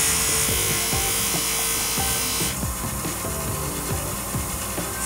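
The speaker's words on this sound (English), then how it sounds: "I'm going back to the wheel and trying to get all the rust off that I did not have taken off before." A small bench-mounted buffer grinder whirs steadily as its wheel buffs rust off a ball peen hammer, with a high continuous hum and repeated rubbing scrapes as the metal is worked against the wheel.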